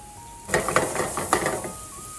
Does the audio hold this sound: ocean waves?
no